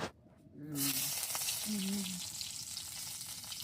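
Garlic dropped into hot oil bursts into a loud, sudden sizzle that settles into a steady frying hiss, while a voice talks over it.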